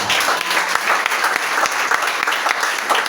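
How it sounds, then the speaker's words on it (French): A church congregation claps and cheers for Jesus, steady loud applause filling the room with scattered cheering and no speech over it. "Est-ce qu'on peut acclamer Jésus?"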